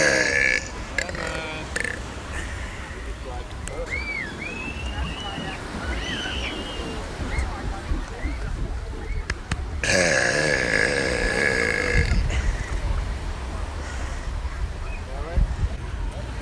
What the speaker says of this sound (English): Today I'm doing another beach burps.